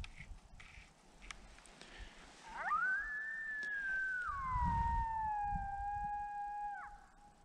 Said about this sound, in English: Right now I got a female howl going.